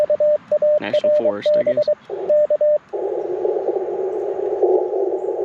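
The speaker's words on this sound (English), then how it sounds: "There's nothing like starting a day with some Morse code from a peaceful state park" Morse code CW sidetone from a QRP radio operating in a state park at Tuskegee National Forest, sounding as a steady tone keyed in short and long pulses, with a brief voice speaking over it, then a continuous radio hiss.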